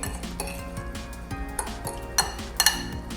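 Spices for fish fingers are mixed in a bowl, giving quick, close clinks and scraping taps of a spoon on the dish, with two brighter knocks toward the end and no speech.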